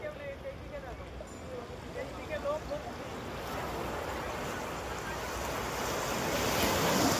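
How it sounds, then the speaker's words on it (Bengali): Sea waves breaking on the beach at Old Digha, a steady broad surf wash with wind noise on the microphone, growing louder toward the end, with a person talking over it. "একদম সমুদ্র আমার পিছনে, ওই দিকে দেখা যাচ্ছে, ঢেউটা দেখা যাচ্ছে, খুব সুন্দর আওয়াজও হচ্ছে"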